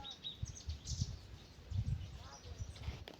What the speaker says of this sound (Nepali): चराहरुको चिरबिर आवाज पनि सुन्न सक्नुहुन्छ।